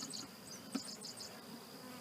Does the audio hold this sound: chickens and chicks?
no